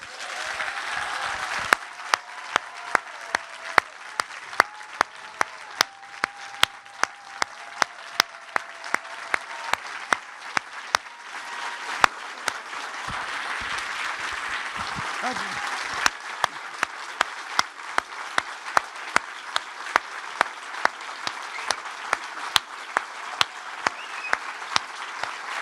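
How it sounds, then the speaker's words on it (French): An audience at the Cannes festival greets Jodie Foster with sustained applause that holds steady throughout, a dense wash of clapping with sharp individual claps standing out. A little talk surfaces faintly beneath it. "Je vous ai dit que vous m'aviez fait les applaudissements timides, mais là, j'espère que vous serez à la hauteur."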